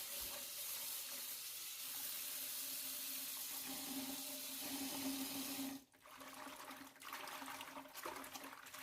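Running water pours steadily from a tap as Malabar spinach leaves are washed in a sink, a continuous splashing rush that briefly drops out near the end before resuming.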